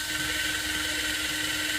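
Power drill running in reverse to prime the oil lines during a 1998 Yamaha Waverunner GP1200 engine installation, a steady whining motor hum that stays constant and moderately quiet throughout.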